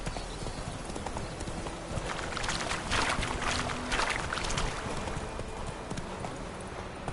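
Horse hooves clip-clopping in The Witcher 3, a steady rhythmic trot running throughout over a dense background of ambient noise, close and moderately loud, no speech.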